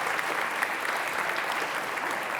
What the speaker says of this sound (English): How about a little applause for John McGrath?